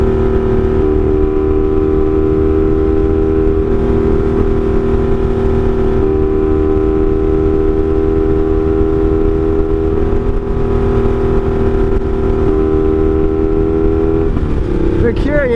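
A Honda Magna motorcycle engine drones steadily and loud at a constant pitch while riding on a Pennsylvania highway, a continuous close motor hum with slight shifts in tone near the end.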